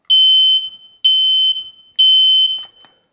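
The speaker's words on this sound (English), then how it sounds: "We can check this smoke alarm by pushing this button." Three loud, piercing electronic beeps from a household smoke alarm as its test button is pressed, evenly spaced about a second apart, close and alone with no voices.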